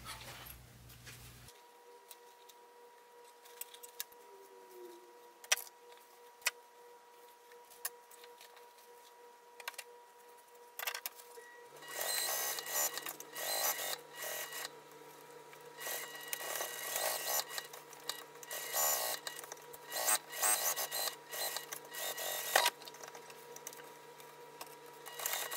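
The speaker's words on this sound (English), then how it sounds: "whenever I want to sew around the bottom and then leave my opening to turn" A sewing machine stitches a 3/8-inch seam around a fabric hip bag. A low, steady hum is followed by louder, continuous mechanical whirring through the second half, with no talking.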